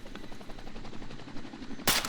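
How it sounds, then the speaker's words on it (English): Rapid bursts of machine gun fire from a PK in the military shooter ArmA II, a steady rattling stream of shots at close range that ends in one loud, bright crack. "It's a machine gunner."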